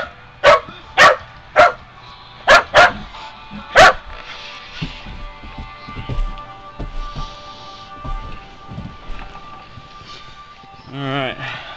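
A dog out in deep snow barks loud and close, six sharp barks in quick succession. Softer rustling and movement follow, and a person speaks near the end.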